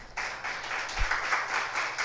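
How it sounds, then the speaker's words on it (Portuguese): A church congregation applauds during a revival service, a soft, steady patter of many hands clapping together at moderate distance, fairly quiet and continuous for a couple of seconds. "Aplauda ao Senhor."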